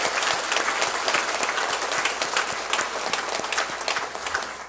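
A church congregation applauds the worship band after their praise music, a steady, dense wash of many hands clapping that fills the room evenly from start to finish, with no voices rising above it.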